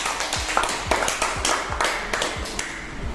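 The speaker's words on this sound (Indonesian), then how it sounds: "Berikan tepuk tangan untuk kita." Scattered hand claps from a classroom of students, a handful of sharp separate slaps spread unevenly over a few seconds. They sound close and moderately loud over a faint room hum.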